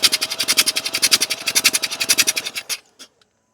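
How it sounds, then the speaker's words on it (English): An abandoned first-generation Mazda RX-7 rotary engine cranked by its starter, a rapid, even chugging rhythm held for about two and a half seconds before cutting off, loud and close, with no talk. "I'll give it a crank to get the rest of that oil out of there"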